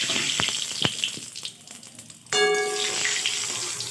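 Curry fries in a pan while being stirred: a few sharp utensil taps and scrapes at first, then a sudden steady sizzle with a faint ringing tone underneath.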